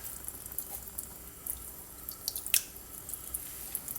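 Tap water running into a sink while squid is cleaned by hand: a faint steady trickle with scattered small drips and splashes, one brighter splash near the middle.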